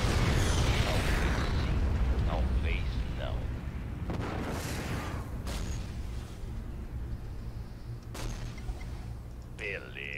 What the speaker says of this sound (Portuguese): Explosão, tchacabum!